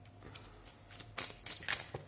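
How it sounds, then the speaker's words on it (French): Tarot cards rustle and slap softly as they are shuffled and one is drawn from the deck, a brief run of quiet, close papery flicks. "j'ai envie de tirer une dernière carte"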